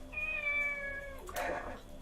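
A cat in the video game Shenmue gives one clear, drawn-out meow with a falling pitch, followed by a brief rougher cry, fairly close and alone with no talk.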